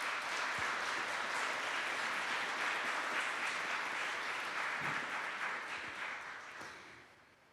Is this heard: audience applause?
yes